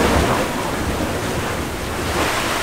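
Ocean waves surge into a sea cave on a choppy day. A dense, loud, continuous rush of surf carries a low, booming rumble and some wind buffeting the microphone.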